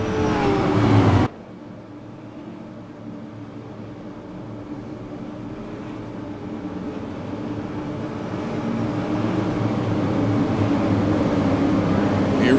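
Super late model race cars roll around the Milwaukee Mile on a pace lap, a steady engine drone that slowly builds in volume after a brief louder burst at the start.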